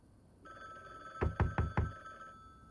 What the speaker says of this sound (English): But there's a phone ringing in there.